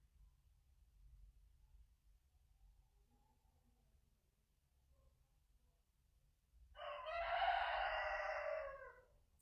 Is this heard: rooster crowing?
yes